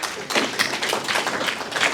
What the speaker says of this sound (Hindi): तालियां मारो इनके लिए